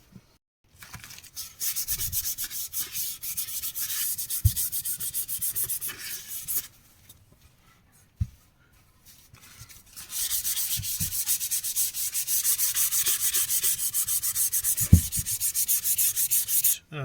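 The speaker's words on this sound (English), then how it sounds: "I've just sanded the mahogany part." Hand sanding of a mahogany Les Paul style guitar body from a kit, steady close rubbing strokes in long runs broken by a quiet pause and a few knocks, with no talking.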